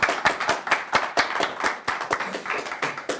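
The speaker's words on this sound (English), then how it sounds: "Let's give our candidates a round of applause." Audience at a 2013 Scranton mayoral primary candidate forum applauding, a brisk burst of many hands clapping nearby with a busy, even patter and no talk.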